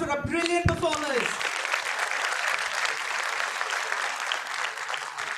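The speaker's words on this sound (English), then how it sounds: "Please can we have another round of applause for our brilliant performers." A graduation convocation audience breaks into sustained, dense applause that fills the room, following a brief voice at the very start.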